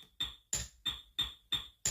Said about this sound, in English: Let's see what type of music we can make using a door closing.